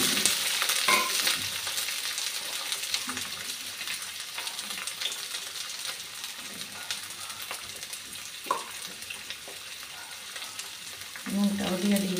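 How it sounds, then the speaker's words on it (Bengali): Beans fry in a pan with a loud, continuous close-up sizzle and crackle, broken by occasional stirring scrapes and a few clinks, swelling again at the end. "বিনস আর মিষ্টি কুমড়ো ভাজাটা"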